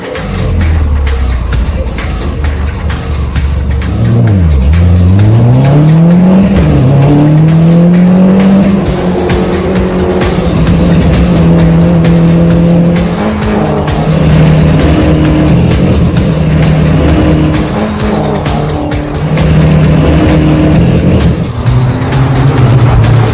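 Race cars run on a track with loud, continuous engine roar, shifting pitch and rising and falling tones as they pass, plus squealing tires, close and dominant throughout.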